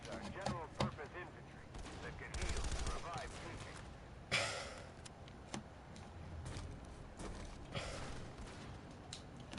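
Rapid automatic gunfire in the Planetside 2 video game, with bursts of closely spaced shots, an explosive blast and scattered single reports over steady game background noise, and no talk.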